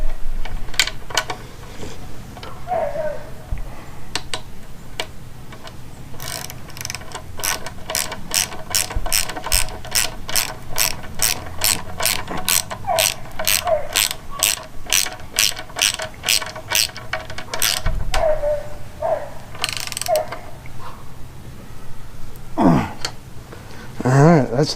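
A ratchet wrench turning a 9/16 bolt back into the lower unit of a 2013 Mercury 250 Pro XS outboard. It gives a long, steady run of close, crisp clicking strokes with short pauses between.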